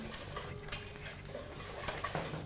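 A spoon stirs butter into a pot of grits for shrimp and grits, giving soft scraping and clinking against the pot over about two and a half seconds, quiet and close, with no talk.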